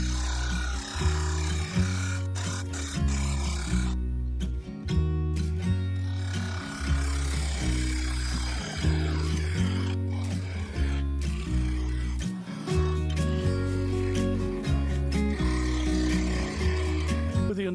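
Spalted beech lid spinning on a wood lathe while a gouge carves a shallow dish into its center, a steady loud motor drone with rhythmic scraping cuts that pause briefly and resume.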